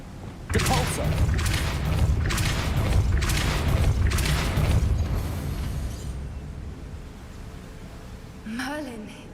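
A Depulso force spell cast in the Hogwarts Legacy video game, heard as a run of four loud booming bursts in quick succession that fade into a rumbling tail, ending in a short rising magical whoosh.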